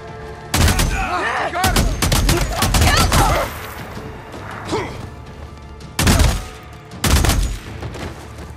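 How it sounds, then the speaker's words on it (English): Sniper gunfire during an ambush in the video game Days Gone: a handful of loud, sharp shots spaced irregularly, with two heavy blasts near the end over a constant background din. "Damn it, sniper ambush."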